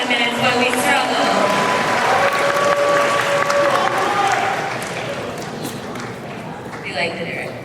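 Audience at an idol singing contest at an anime convention giving a loud, sustained round of applause with some cheering, the clapping thinning slightly toward the end.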